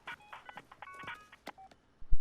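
Phone keypad tones in the Watch Dogs video game, a quick string of short, clear beeps of varied pitch followed by a couple of low thumps at the end.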